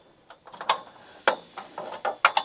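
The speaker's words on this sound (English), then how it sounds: "So I went and got me a 10 millimeter ratchet wrench" A 10 millimeter ratchet wrench turns on a Jeep Wrangler JK rocker guard bolt, giving a few short, sharp clicking bursts at close range, separated by brief gaps, with no talk.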